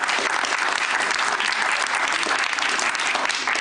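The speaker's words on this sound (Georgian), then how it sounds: "ცოტა ისეთი მკვდარი ტაში იყო" Steady, dense applause from a TV talk-show studio audience, continuous and even throughout without rising or swelling, sounding flat and unenthusiastic rather than lively.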